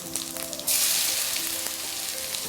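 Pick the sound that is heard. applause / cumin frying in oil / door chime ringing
cumin frying in oil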